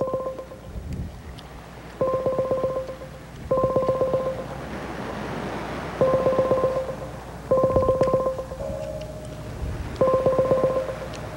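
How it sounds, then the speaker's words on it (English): Touch-tone telephone keypad dialing a number: several short bursts of dual-tone beeps in clusters with pauses between, fairly loud over a steady background hiss. "we're calling Freddie Doughboy"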